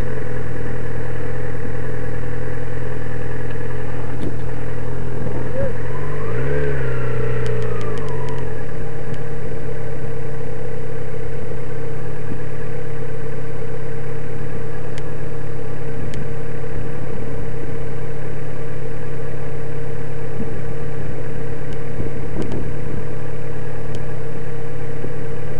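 A motorcycle on a bike test rides slowly in a straight line toward the examiner, its engine a low steady hum with a brief rise and fall in pitch as it approaches, heard alone over a constant background.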